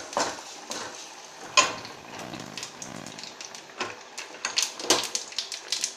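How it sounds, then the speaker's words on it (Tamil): A single dried chilli, curry leaves and asafoetida being sautéed in a pan: a soft sizzle broken by sharp clinks and scrapes of a utensil against the metal, irregular and close. "ஒரே ஒரு பட்டை மிளகாய், கொஞ்சோண்டு கருவேப்பிலை போட்டு கொஞ்சம் பெருங்காயம் போட்டு வதக்கிக்கலாம்."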